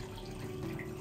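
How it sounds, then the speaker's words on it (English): Raspberry and vanilla infused vodka pours through a funnel into a bottle, a faint, steady trickle of liquid heard close and alone for about a second. "find your funnel and pour your infused spirit back"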